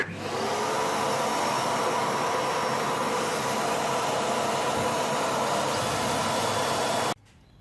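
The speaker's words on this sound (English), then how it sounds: "It helps if you turn the vacuum on." A vacuum cleaner runs in a home workshop, a loud, steady broadband roar held for about seven seconds before it cuts off abruptly near the end.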